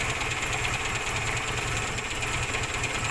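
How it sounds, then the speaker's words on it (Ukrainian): A 1996 Volkswagen Golf 3 engine idles steadily with a low, throbbing rumble and a faint knocking rhythm, close by and continuous throughout. "Мотор працює гарно, з цим питань немає"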